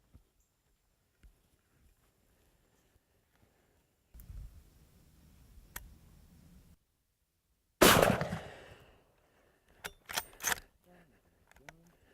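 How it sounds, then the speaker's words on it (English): A single loud, sharp rifle shot fired while hunting outdoors, followed by fainter clicks and handling noises and quiet background sounds. "Good shot, Bob."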